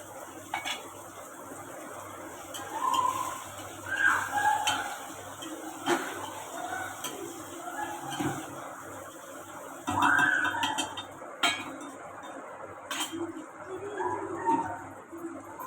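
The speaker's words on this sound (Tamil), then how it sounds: "தக்காளி நான் ஒரு பெரிய தக்காளி கட் பண்ணி வச்சுருக்கேன், அதையும் போட்டு நல்லா வதக்கிக்கலாம்." A large chopped tomato is sautéed for a fish curry, with a soft sizzle under repeated metallic clinks and scrapes as a spoon stirs the pan, in uneven bursts and without speech.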